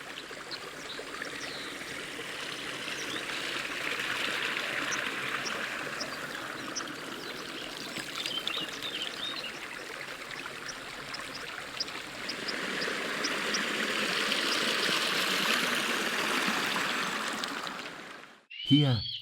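Thawed snowmelt runs in a spring stream with a steady, broad rushing and gurgling that holds at an even level throughout, fairly close, with no voices, before it cuts off at the end.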